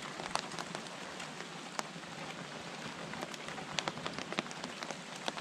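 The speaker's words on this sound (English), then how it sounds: "It's an afternoon shower in the mountains." Steady afternoon rain falls in the mountains in a continuous hiss, with scattered louder drops tapping sharply on a nearby surface.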